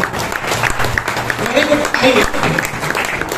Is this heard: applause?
yes